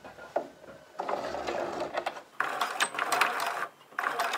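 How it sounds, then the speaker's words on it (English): A sewing machine stitches bias tape around a V neckline, running in a steady close hum with brief pauses and restarts between bursts of stitching. "Back stitch and then continue to sew all the way around"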